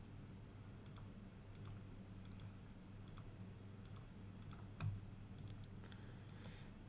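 Quiet computer mouse clicks while playing the card game Dominion online, a series of sharp, irregularly spaced taps over a low background hum, with no talking.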